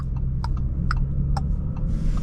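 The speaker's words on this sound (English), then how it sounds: "The blinker click is like," Turn signal on a 2024 Audi S5 Sportback 3.0T ticking at a steady, even pace inside the cabin, crisp clicks about twice a second over a low engine and road hum.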